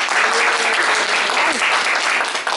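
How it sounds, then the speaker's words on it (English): An audience of seniors claps for veterans at an honoring event, steady and loud applause filling the room with faint voices mixed in. "Just give a hand clap for the"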